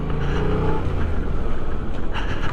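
A 2023 Yamaha MT-07 motorcycle engine runs at low, steady revs close by, a continuous throaty rumble with no talking.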